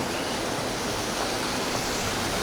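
A waterfall on the Crocodile River near its source in Gauteng, South Africa, gives a steady, dense broadband roar of falling water that holds even and unbroken throughout.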